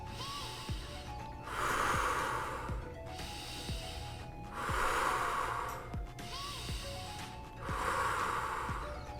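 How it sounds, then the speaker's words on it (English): Deep breathing during a kids' karate lesson: three long, airy exhales swell and fade at a slow, even pace, with softer inhales between and faint background noise. "Last breath in. Out."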